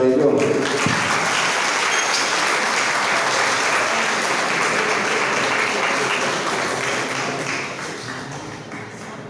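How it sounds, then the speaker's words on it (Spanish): A congregation applauds at a Franciscan mission history event in Zamora Chinchipe, a loud, sustained round of clapping from a large crowd that begins after a brief voice and slowly tapers off toward the end. "Un fuerte aplauso para el Padre John."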